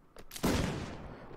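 Single handmade firearm gunshot in the video game Mount & Blade: Fire and Sword, a sharp close blast with a rough booming tail, preceded by a few faint clicks.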